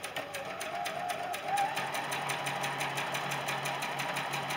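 A sewing machine stitches quilt pieces in fast, even rapid-fire strokes, fairly quiet and close, with no talking.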